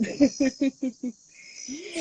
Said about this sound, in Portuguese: Um lugar que tem cigarras.